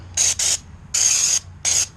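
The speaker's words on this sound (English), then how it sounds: "Let's do a test spray right here." Raptor Liner bed liner coating test-sprayed from a spray gun, three sharp hissing bursts of spray, close and loud, separated by brief pauses, with no talking.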